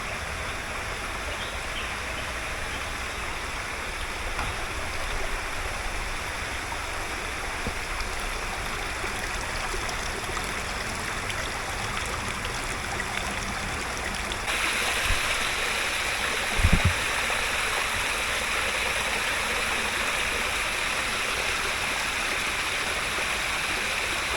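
A small waterfall and forest stream pour and rush in a steady, continuous wash of water noise with no break, heard up close on a hill hike.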